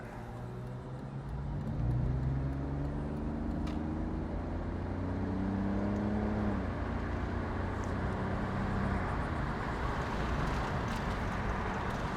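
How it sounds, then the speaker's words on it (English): A 2004 BMW 330Ci convertible accelerates through the gears from inside the cabin, its engine drone rising in pitch with each gear, dipping at shifts, steady and moderately loud over road noise. "Give it some gas here, running through the gears a little bit."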